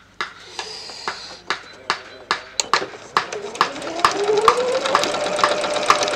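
A sewing machine sews an AFNOR fabric mask to the end of a seam, up close, opening with sharp rhythmic taps that quicken into a steady run.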